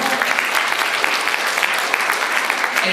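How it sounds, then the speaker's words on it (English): A Pacific Islands community anniversary crowd in Auckland applauds the Fijian rugby players, steady dense clapping filling the hall without a break, loud and close. "So let's give our Fijians a big round of applause"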